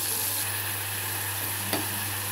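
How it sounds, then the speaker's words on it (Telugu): Large prawns fry in a pan, giving a steady, even sizzle with a faint background hum and one brief stir or scrape partway through, with no talking. "రొయ్యలు చక్కగా వేగిపోయింది."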